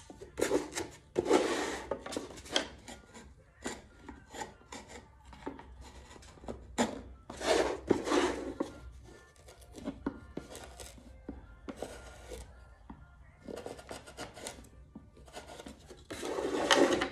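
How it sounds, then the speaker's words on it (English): A hand file rasps repeatedly against wood while the soundports of a grizzly bear themed mandolin are carved, in uneven bursts of scraping strokes with short pauses, fairly close and moderately loud. "I'm filing"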